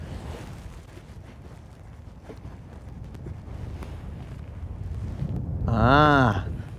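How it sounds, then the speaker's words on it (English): Wind gusts over open water during bass fishing and buffets the microphone with a steady low roar that builds toward the end. A brief drawn-out vocal sound rises near the close. "Ah, the WIND has found me."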